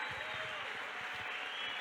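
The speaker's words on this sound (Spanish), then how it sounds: "Un aplauso al Señor" A church conference audience applauds, a dense and fairly faint round of clapping that carries on steadily for the short stretch.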